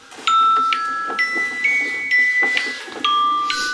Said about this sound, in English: That's my alarm to wake me up.